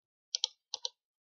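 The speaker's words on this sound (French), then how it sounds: "on appuie sur la touche supprime du clavier" Two quick pairs of sharp, close plastic clicks from a computer keyboard key being pressed, each pair a fraction of a second apart, with silence around them.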